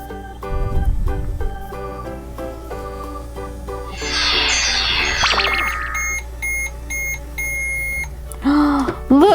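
A toy microwave beeps repeatedly after its pizza button is pressed, giving a chain of bright electronic tones and a jingly chime; the toy plays a cluster of sparkly sound effects near the end, loud and close.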